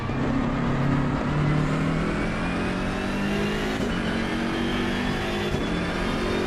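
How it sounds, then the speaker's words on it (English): BMW M6 race car engine in Assetto Corsa Competizione, a loud sustained roar that climbs and shifts pitch through gear changes, heard alone without speech. "I love the sound of this car,"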